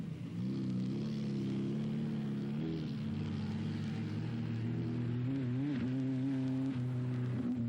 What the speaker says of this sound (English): It's amazing what you can do with a dune buggy.